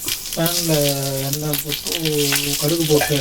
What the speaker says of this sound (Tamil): இப்போ எண்ணெய் காஞ்சிட்டு, ஆமாம் எண்ணெய் காஞ்சின்னு இருக்கு. கொஞ்சம் கடுகு வந்து தாளிச்சு கொட்டிடலாம் எல்லாத்துக்கும்